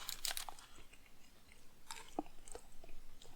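Close, quiet chewing of soft-crunchy undercooked beans, like slightly boiled peanuts, with scattered small crunches and wet mouth sounds over a few seconds.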